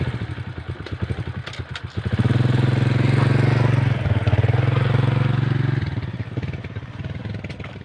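A motorcycle engine idles with a rapid chugging thrum, then revs up loudly and holds a steady roar before easing back, close by, with faint voices around it.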